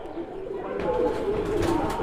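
Low, throaty cooing from Madrasi pigeons housed at a home loft, steady and near, growing a little louder midway, with brief talk in the background.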